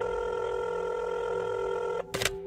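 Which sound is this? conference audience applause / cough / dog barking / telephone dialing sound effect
telephone dialing sound effect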